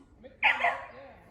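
A dog gives a short yelping bark that trails into a whimper, fairly close outdoors, during a metal detecting outing with a chainsaw running somewhere nearby.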